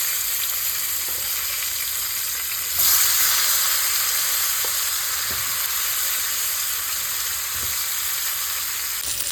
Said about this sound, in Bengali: আলু ফুলকপিটা আমার এখানে ভাজা হয়ে গেছে